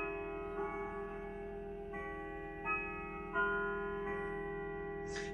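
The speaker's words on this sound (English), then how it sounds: "That allows you to know which quarter hour the clock is chiming." A 217 cm rustic oak grandfather clock with a moon dial plays its Westminster chime: a sequence of resonant bell-like notes struck a few at a time, each ringing on with a long, sustained tone and no voices.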